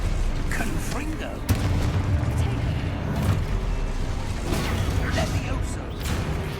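Spell blasts in the Hogwarts Legacy video game duel, a string of booming explosive bursts in a loud, busy soundscape, with a voice shouting incantations throughout.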